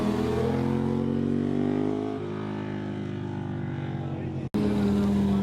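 A Suzuki GSX-R and a Ducati 998 motorcycle ride past on Mulholland Highway's twisty canyon road, a loud, steady engine roar with a rising note that drops as they go by, broken by a brief cut near the end.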